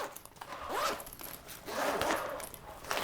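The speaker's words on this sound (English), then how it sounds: "So there's a zipper here, and it basically goes all the way around the bag" A zipper is pulled around the edge of an Almond Oak 25L travel backpack in a few quick, scratchy strokes, close by and fairly quiet.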